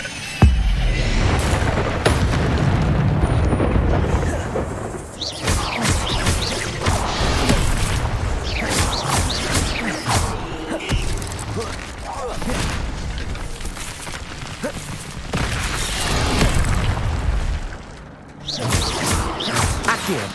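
Spell-casting effects from the Hogwarts Legacy video game, including an Incendio fire spell, burst out as a loud rapid series of whooshes, blasts and crackling impacts over a busy, continuous game soundscape.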